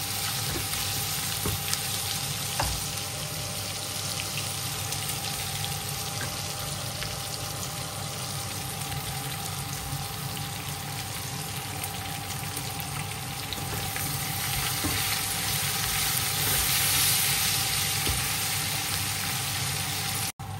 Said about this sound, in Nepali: कस्तो राम्रोसँग फ्राई भयो सुकुटी